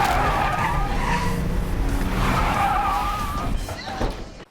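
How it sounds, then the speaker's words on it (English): A car skids after its tires blow out, giving a loud, sustained tire screech for about four seconds that tapers off at the end. "Their tires get blown out."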